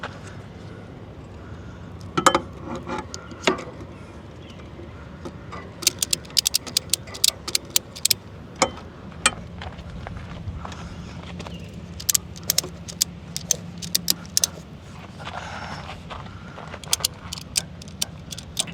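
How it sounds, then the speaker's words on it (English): Straps on a Black Widow double e-bike rack are tightened with scattered, irregular clicks and ratcheting snaps over a low steady outdoor rumble, close and fairly sharp. "After you have tightened the straps,"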